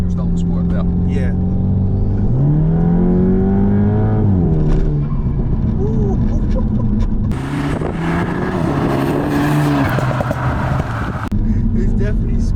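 A Stage 3 Skoda Octavia vRS of about 477 bhp accelerates, its engine note climbing through the gears over a steady road roar. People talk inside the car throughout, and a burst of louder noise comes midway.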